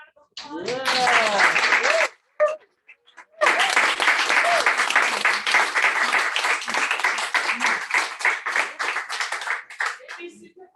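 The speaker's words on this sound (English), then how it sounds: "All poets, another round of applause." Audience at a poetry reading applauds the poets: a short voice at the start, a brief pause, then a sustained round of clapping with scattered cheers that fades out.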